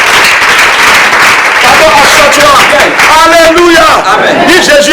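A church congregation at a deliverance service claps and cheers in loud, dense applause mixed with crowd voices and shouted acclamations throughout.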